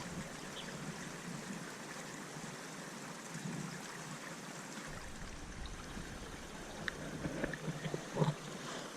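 A running stream along a hiking track, a steady broadband wash of flowing water, with some brighter splashy bursts near the end.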